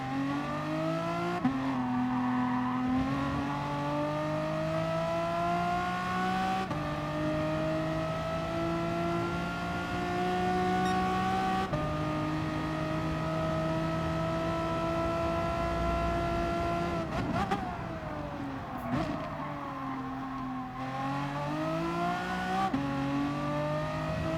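Renault Megane Trophy race car engine in Gran Turismo Sport, racing at Lago Maggiore East Reverse: a steady, loud whining engine note that rises and falls through gear changes, with brief dips and lifts, sustained throughout.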